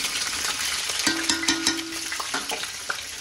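Prawns frying in a hot pan over a high gas flame, a dense close sizzle with a few scraping stirs and a short metallic ring partway through.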